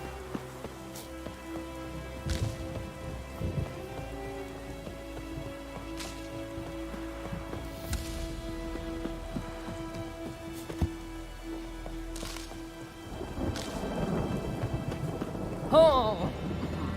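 Steady rain patters across a Genshin Impact game scene, with several sharp thunder cracks rolling through and a louder wash of rain and thunder swelling near the end.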